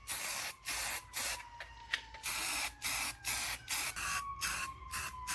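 CRC bright zinc aerosol paint sprayed onto brake rotors in a series of about ten short bursts, each a sharp, close hiss separated by brief pauses, no talking.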